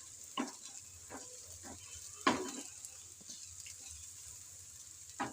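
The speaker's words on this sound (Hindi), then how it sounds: "तो अदरक लहसुन को 1 से 2 मिनट हम इसमें भूनेंगे अच्छी तरह से।" Ginger and garlic fry in a pan for a shalgam (turnip) dish, giving a soft, steady sizzle broken by a few sharp clinks of stirring utensil against metal.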